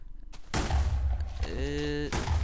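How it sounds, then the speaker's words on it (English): Explosions and gunfire from a Minecraft Halo mod game come as loud, close booming blasts, with a sustained whining weapon tone in the middle and a final blast at the end. "That's a pretty decent explosion."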